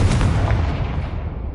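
A Confringo blasting spell explodes in Hogwarts Legacy as a loud, broad rumbling burst that fills the whole moment and slowly fades, with no voices.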